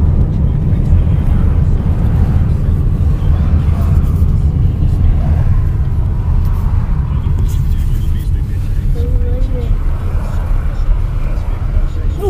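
Steady, loud road rumble from inside a car driving along a city street, a continuous low engine and tyre drone with a voice talking over it.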